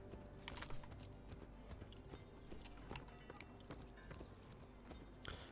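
Horse hooves clip-clopping during riding in Assassin's Creed III Remastered, a steady rhythmic trot of many hoof knocks with faint tack and mechanical clinks, fairly quiet throughout.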